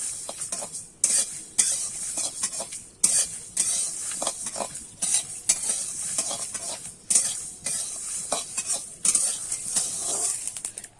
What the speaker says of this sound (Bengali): দেখো মশলাটা কিন্তু দিয়ে চটপটা আওয়াজ হচ্ছে